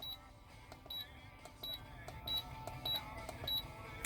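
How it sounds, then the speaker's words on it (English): A Blaupunkt Bremen DAB+ car radio gives short, high electronic beeps at each button press, repeating at a steady pace, about six in four seconds, quiet and close, over faint background hiss. "Every time you press any button, it beeps."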